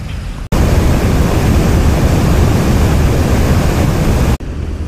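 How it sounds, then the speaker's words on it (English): Water rushing over a dam on a creek, a loud, continuous broadband roar that starts abruptly, holds steady and cuts off just before the end, with no voices. "You guys can already hear that dam."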